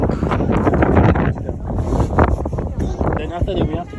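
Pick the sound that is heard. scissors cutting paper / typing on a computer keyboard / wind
wind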